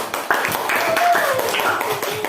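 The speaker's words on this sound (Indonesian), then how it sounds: "tepuk tangan untuk Julia" Students in a classroom give a short burst of clapping for a classmate, scattered and close, with voices talking over it.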